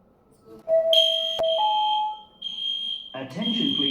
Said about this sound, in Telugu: ఇప్పుడు ఆ స్మోక్ తీసుకొని అది అలారం అవుతుంది